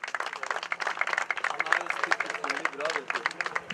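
Audience clapping for a player stepping up at the trophy presentation after a Norwegian championship (NM) final, a dense, steady patter of applause throughout with a voice talking over it.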